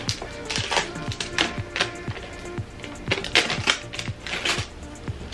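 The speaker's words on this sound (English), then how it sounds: "Let me take the plastic off of this" Plastic wrap is peeled off the metal buckle of a new Valentino purse, producing a close run of sharp crinkles, clicks and small taps in an irregular rhythm, with no voices.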